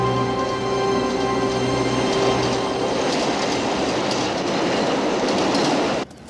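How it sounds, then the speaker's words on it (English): Runaway train rolling down a steep 15-degree grade, a loud, continuous rumble with clattering wheels and high metallic squeal close by, cutting off abruptly near the end. "A runaway train."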